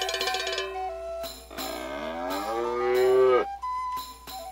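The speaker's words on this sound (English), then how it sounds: "Use a cowbell to find and defeat the farm cow." In the South Park: The Stick of Truth video game, a farm cow lets out a long, loud, drawn-out moo after some bell-like tones, followed by short game sounds.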